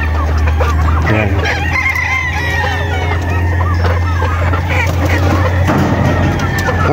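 Hens cluck and a rooster crows nearby over a steady low hum, with people talking faintly in the background.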